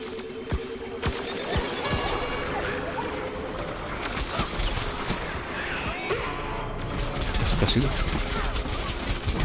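Rapid cartoonish gunfire and impact crashes from the shooter game Plants vs Zombies Garden Warfare 2, repeated bursts and pops over busy game effects, with a voice talking over them.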